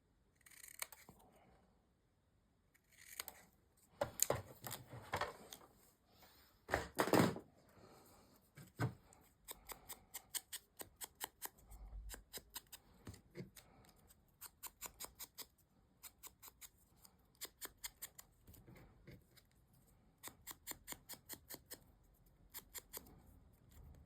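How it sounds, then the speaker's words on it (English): Scissors trim small paper pieces for a craft project in a quiet room: scattered close, crisp snips and rustles, sometimes in quick bursts of several cuts, with short pauses between and no talking. "Just trim them and trim."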